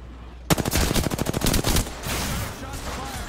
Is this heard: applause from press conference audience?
no